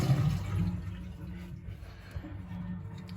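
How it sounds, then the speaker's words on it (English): A household toilet flushes, a steady rush and gurgle of draining water close by that gradually eases into a quieter trickle and refill, with no one speaking. "Flush the toilet, get rid of the water that you have."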